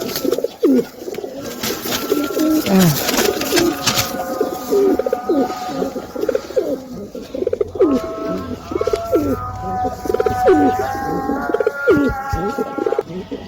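Madrasi pigeons coo repeatedly close by in a loft, a steady overlapping chorus of throaty, rolling calls with a little wing flutter and faint background noise.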